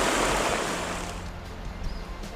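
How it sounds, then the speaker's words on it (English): A waterfall south of the Smokies rushes in a broad, continuous roar, loud and close, steady throughout with only slight swells and no voices over it. "It may not be the biggest waterfall in the area, but I'll bet it's one of the most popular in the summer."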